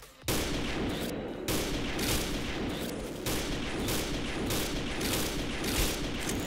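Heavy gunfire in the XSHOT shooter game during a bomb-mode sniper match: loud, sustained bursts and booming shots close up, broken by a few short pauses, with no talking.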